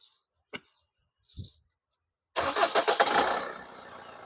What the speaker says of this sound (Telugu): సార్ బండి కూడా స్టార్ట్ చేసి చూపిస్తానండి మీకు